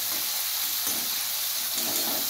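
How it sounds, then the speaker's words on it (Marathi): Tomatoes fry in a pan for a fenugreek-leaf vegetable dish, a constant close sizzle broken by short scraping stirs. "सारखं हलवत राहिलं ना टमाटो"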